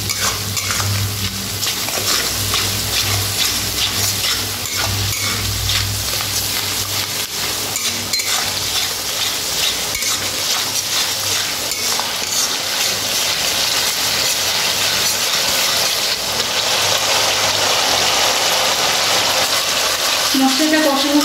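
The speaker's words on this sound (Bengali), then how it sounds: "এবার মশলা দেখে আমি কষাবো।" Spiced masala mixed with whisked yogurt fries in a pan for chicken do pyaza, a steady loud sizzle with frequent scraping of a spoon stirring through it.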